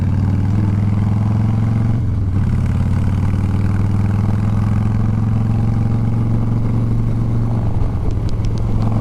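A motorcycle engine drones loudly and steadily with a deep exhaust rumble close by, briefly dipping and then holding a constant throb.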